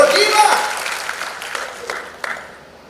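Applause from an audience at an evangelistic church revival service in Bali swells at the start and gradually fades, with a voice speaking over it.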